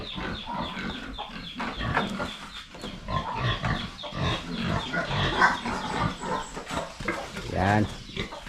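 A pig being led into a more spacious pen on a farm, with grunts and squeals mixed among clucking chickens and nearby people talking throughout, a close, busy and fairly loud barnyard scene.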